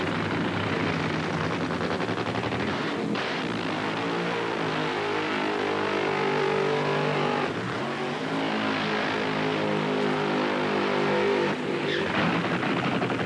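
Drag race cars at the start of the 1998 Winston drag racing season at Centerville, engines roaring loudly and steadily, with repeated rising surges as the cars launch down the strip.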